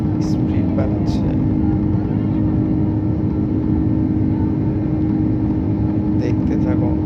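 An airliner accelerates down the runway for takeoff, a loud steady engine roar heard from inside the cabin, with a few faint clicks and rattles on top.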